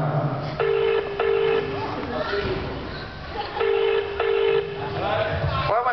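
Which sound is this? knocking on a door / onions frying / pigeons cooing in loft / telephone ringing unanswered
telephone ringing unanswered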